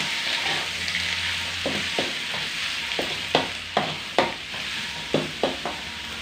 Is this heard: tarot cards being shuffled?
no